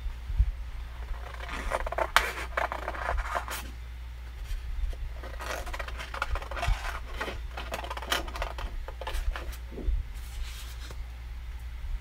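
Scissors cutting out paper pictures up close, a run of quiet, irregular snips and crisp rustles over a low steady hum, with no talk.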